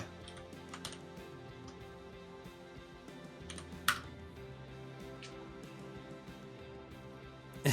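Sparse computer keyboard typing while coding in a Rust REPL, a few faint scattered keystrokes with one sharper click near the end, heard alone at low level.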